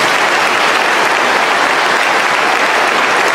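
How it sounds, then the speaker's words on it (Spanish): Dense, steady applause from an audience at a church gathering in Texas, a continuous wash of many hands clapping at full volume with no talk over it. "Un aplauso para ella."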